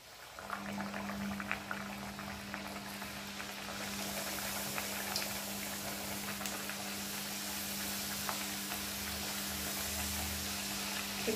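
A spicy puri is slipped into hot oil and fries with a soft, continuous bubbling sizzle over a low steady hum, fairly quiet and with no talking.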